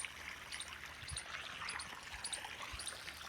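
Irrigation water flows into a farm channel, a faint, steady trickle and gurgle with small splashes and no voices.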